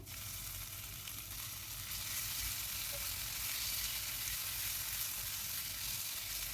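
Ginger and dried chilli paste frying with onions for a fish dish hiss in an even, fairly quiet sizzle over a medium flame, with no stirring knocks standing out.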